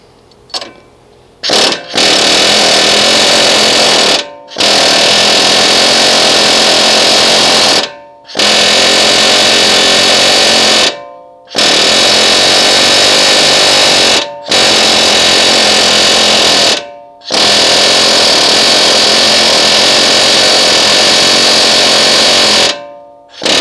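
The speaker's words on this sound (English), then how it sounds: "we're going to take our air hammer" Air hammer chiseling rivets off a front ball joint on a 1989 Chevy K1500 Silverado: loud, harsh pneumatic hammering in sustained bursts of a few seconds each, broken by brief pauses, up close with no talking.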